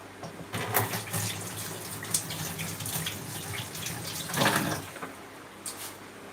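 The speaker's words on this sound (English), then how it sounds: "I'm going to wash my hands." Tap water runs into a sink as someone washes their hands, a steady close splashing hiss with brief louder surges and bursts partway through.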